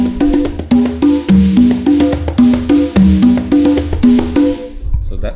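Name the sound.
congas being played, Toca fiberglass congas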